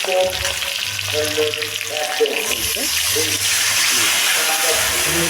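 Tomato drops into hot oil for a pabda fish curry and fries with a continuous loud crackling sizzle, bursts of spattering, and brief stirring and clattering sounds, with no talking.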